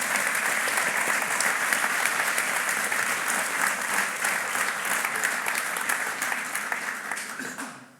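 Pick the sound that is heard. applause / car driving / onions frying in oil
applause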